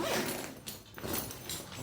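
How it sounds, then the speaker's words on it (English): A thick white KK zipper is pulled along the main compartment of a tactical backpack, giving a close, rasping run of zip strokes in short pulls with no talking. "Again, thick white KK zippers which go right through."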